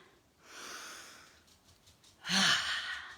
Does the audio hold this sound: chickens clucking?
no